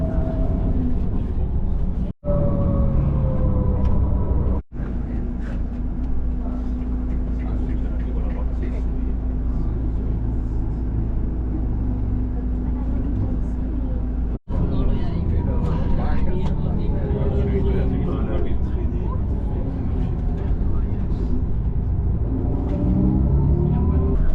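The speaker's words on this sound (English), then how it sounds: "The bus trip took about 45 minutes to get us here" Steady low engine rumble fills the interior of a bus riding toward the Lakes of Covadonga in the Picos de Europa, with road noise, rattles and a few brief dropouts, continuous throughout.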